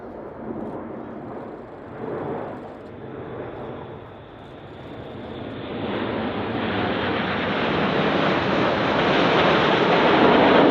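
Red Arrows jets in a flying display roar past from the left, their engine noise swelling steadily over about ten seconds with gusty wind against the microphone and no talking.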